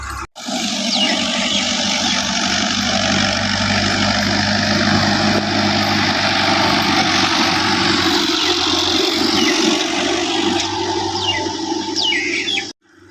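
A tractor engine runs steadily while clearing ground outdoors, a loud continuous rumbling drone for nearly the whole stretch, with faint birds in the background.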